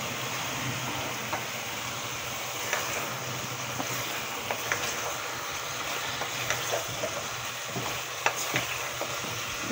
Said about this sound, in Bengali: এর মধ্যে লাউগুলো দিয়ে দেবো।